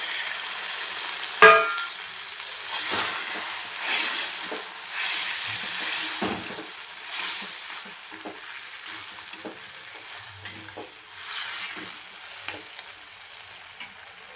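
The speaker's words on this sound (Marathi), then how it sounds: "छान आपलं मटर पनीर यामध्ये आपल्याला मसाल्यामध्ये परतून घ्यायचं आहे." Paneer and green peas sautéed in masala in a pan, a continuous close sizzle broken by repeated spatula stirs and scrapes, with a sharp knock at the start and no voices.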